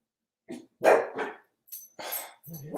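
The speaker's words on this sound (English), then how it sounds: "you're going to get the chorus of dogs today" Several dogs bark in short, sharp bursts, a few loud barks close by followed by more scattered ones.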